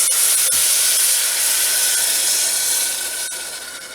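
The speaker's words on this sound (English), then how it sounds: "That's the room temperature beef stock coming in contact with the hot pan" Steady, bright sizzling hiss of one cup of room-temperature beef stock hitting a hot pan, loud and continuous, easing slightly toward the end.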